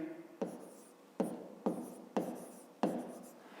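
A pen scratches out a maths exercise on paper in five short, quiet strokes, each starting with a sharp onset and trailing off, spaced at roughly even intervals.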